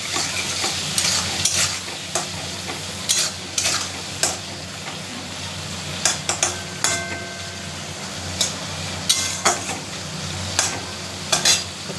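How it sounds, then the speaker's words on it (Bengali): Prawns with salt and turmeric sauté in a pan under a continuous sizzle, punctuated by repeated sharp spatula scrapes and knocks against the pan, close and fairly loud. "একটু কষাই চিংড়ি মাছটা"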